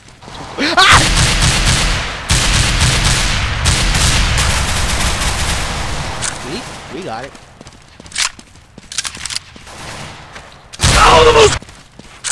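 Loud gunfire in the video game CS:GO, dense automatic bursts that start early, then break into scattered single shots and a final heavy burst, with a player talking over the game.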